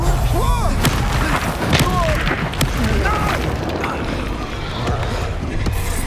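Spell blasts in the Hogwarts Legacy video game, a run of booming magical explosions and thuds in a busy combat scene with voices shouting over the impacts.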